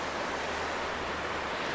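A river flows beside a campsite at Chor River in Kampar, Perak, a steady, soft rush of water with no break and no voices.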